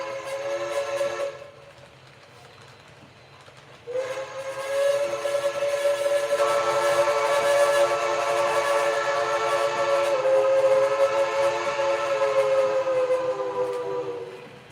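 A Cass Scenic Railway Shay No. 5 steam locomotive whistle sounds a short blast, pauses, then blows one long sustained chordal tone that fades slightly at the end.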